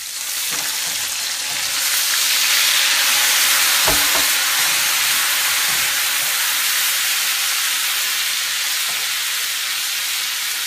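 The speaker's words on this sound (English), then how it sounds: "now I'm going to deglaze this pan with the lime juice" Lime juice hits a hot pan holding shark steak and swordfish, setting off a loud, continuous sizzle and steamy hiss up close, with a few faint clicks of stirring under the frying.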